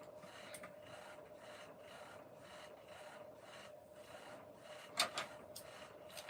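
A sewing machine stitches in a quiet craft room, a fairly soft, rhythmic mechanical rasp repeating about once a second, with a couple of sharper clicks near the end.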